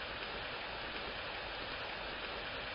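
Light evening rain at the Sindh Museum in Hyderabad, Pakistan, makes a constant, even hiss of drops falling on surfaces with no voices.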